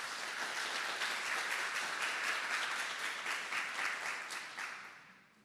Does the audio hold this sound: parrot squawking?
no